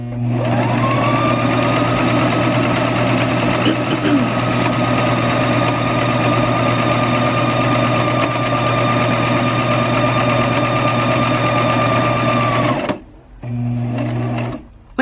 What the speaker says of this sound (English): For this, I'm just going to use a straight stitch.